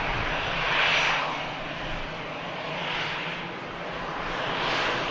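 An EasyJet Airbus A320 landing at Manchester Airport in strong, gusty wind: a loud, steady jet engine roar rising and falling slightly as the aircraft passes, with wind noise throughout.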